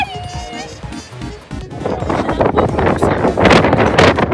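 Strong wind gusts roar across an outdoor microphone, building into loud, broadband rumbling bursts during the second half, with a voice and music briefly heard at the start.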